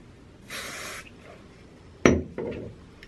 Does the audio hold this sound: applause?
no